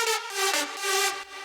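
A soloed third synth lead from a big-room drop, EQ'd to trim its harsh highs, sustains bright stacked harmonics in a steady pulsing phrase, loud and close with no voices.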